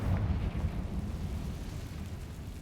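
A Confringo blasting spell in Hogwarts Legacy bursts loudly at the start, then settles into a long, rumbling low roar that fades slowly.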